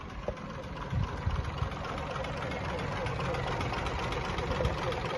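A heavily damaged Toyota car's engine runs at a steady idle, a low continuous rumble with a few knocking thumps early on, heard close up while someone talks over it.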